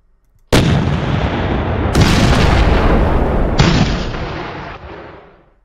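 Artillery direct fire in a World War II North Africa 1941 battle video game, three loud booming cannon shots a couple of seconds apart, each with a long rumbling tail that fades out at the end.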